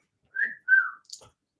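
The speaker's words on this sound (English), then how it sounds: "Your turn to do some wolf whistling because it's legs 11." A person gives a wolf whistle at a bingo session, a clear two-part rising and falling whistle followed by a brief faint click, close and alone in silence.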